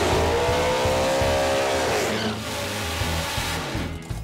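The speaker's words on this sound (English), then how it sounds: "spins his tires and lifts" Street outlaw drag race cars launch hard at a championship race, loud roaring engines revving up with tire spin, a dense, close, sustained blast of engine noise.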